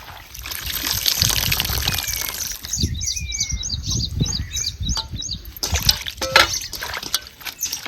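Leafy vegetable greens being washed by hand in water, with splashing, swishing and trickling in irregular bursts close by, plus faint chirping birds in the background, and no talking.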